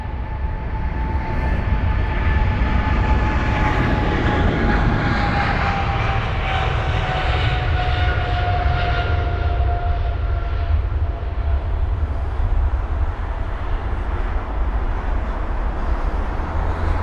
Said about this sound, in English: Got the 777 on departure.